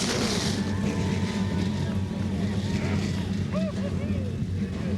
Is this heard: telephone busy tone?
no